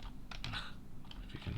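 Keys tapping on a computer keyboard in a few quick, soft clusters, close and fairly quiet with nobody talking.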